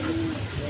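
A healthy pigeon gives a brief low coo up close, with a steady murmur of background noise around it.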